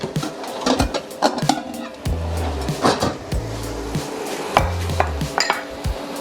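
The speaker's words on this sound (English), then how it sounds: "I'll just move this dirty plate and get a fresh plate" A dirty plate is shifted aside and a fresh one set down in a home kitchen while cooking steak pizzaiola, giving several close ceramic clinks and knocks over a low hum.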